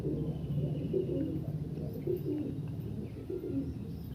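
Racing pigeons, white-eyed birds from an Andhra pigeon collection, coo in a steady series of soft, low, rolling calls close by, with a faint hum of the surroundings underneath.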